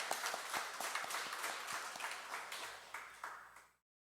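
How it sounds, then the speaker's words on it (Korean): A church congregation applauds middle and high school students during a worship service, a full, steady round of many hands clapping in a reverberant room that fades out after a few seconds. "우리 저 친구들을 위해서 격려의 박수, 축하의 박수 한번 해주겠습니다."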